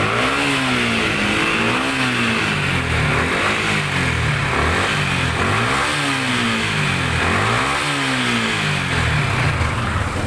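A Yamaha Sniper 155 motorcycle engine with a variable valve actuation problem revs repeatedly toward about 7,000 RPM. Loud and close, it rises and falls in several surging revving cycles over a constant mechanical hum.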